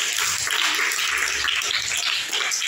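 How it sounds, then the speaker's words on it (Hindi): Students in a classroom clap together in a dense, steady burst of applause lasting a few seconds, close and fairly loud, with no talking. "इसके लिए तालियां बजाइए"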